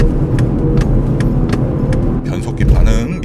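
A BMW 630i GT with a six-cylinder petrol engine accelerates, its deep engine rumble steady and loud from inside the cabin, with faint clicks and a rising swell toward the end.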